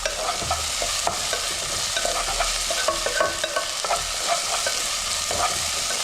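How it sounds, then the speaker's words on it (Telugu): Ginger garlic paste frying in oil as a spoon stirs it, a constant close sizzle broken by repeated scraping strokes against the pan, with no voices. "అల్లం వెల్లిపాయ పేస్ట్ చేసుకున్నాం, 2 స్పూన్లు వేస్తున్నాం. ఇది పచ్చివాసన పోయే వరకు వేపాలి."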